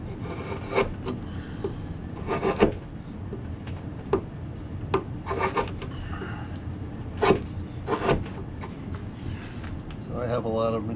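Roughing out the flags of a large Bellamy eagle carving with a gouge in wood: repeated close, scraping cuts in irregular bursts, with rasping strokes between them. Someone talks alongside.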